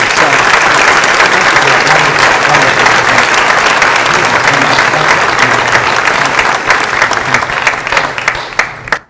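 Sustained, loud applause from an indoor audience welcoming civic reformer Kevin Gaughan to a podium, steady clapping for about nine seconds that thins out at the end.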